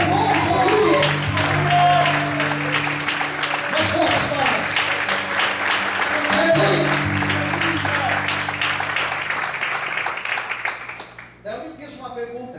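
A church congregation bursts into sustained, dense applause that fills the room at close range, mixed with cheering voices, then fades out near the end as a preacher begins speaking.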